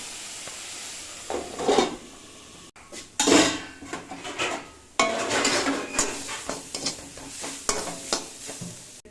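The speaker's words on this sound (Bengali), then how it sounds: "ঢেকে এই ভাজাটা ভাজছি" A vegetable fry of stems cooks in a covered pan, giving a steady sizzle broken by repeated clanks and scrapes of a utensil against the metal, close and moderately loud.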